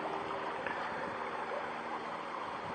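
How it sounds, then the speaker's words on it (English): Water sloshing and pouring out of a gold pan holding gold, mercury, rocks and debris at a mining site, a steady close watery rush with gurgling throughout. "Let me get some of that water out of there."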